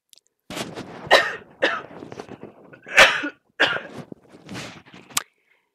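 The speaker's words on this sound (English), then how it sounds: "If you are hearing me cough, I apologize." A person coughs repeatedly at close range, a series of sharp, harsh bursts spaced about half a second to a second apart, muffled as if partly covered by a hand, with silence before and after.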